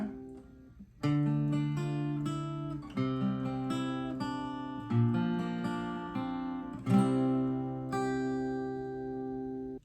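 Guitar playing the intro of a song at regular speed, with clean, bright plucked notes and chord figures in a steady country rhythm, closing on a ringing sustained chord. No voice is heard.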